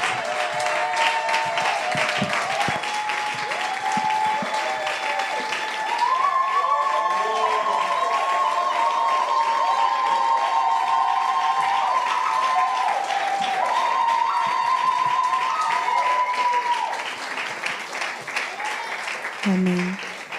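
A church congregation breaks into sustained applause and cheering for a mother, dense clapping lasting about twenty seconds with a tonal voice or music line running through it and tapering off at the end.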